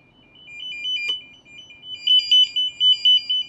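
A warbling electronic tone from a Noyafa NF-8508 network cable tracer probe, faint at first, then loud pulsing beeps alternating between two pitches, with a brief click partway through.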